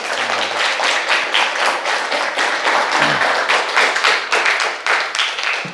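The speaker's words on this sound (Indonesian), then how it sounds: "bisa tepuk tangan buat kita semua?" An audience at a teacher-training performance assessment at Universitas Widya Dharma Klaten claps steadily and fairly loudly, a dense, continuous patter of many hands lasting the whole stretch with no talking.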